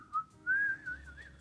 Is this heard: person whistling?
yes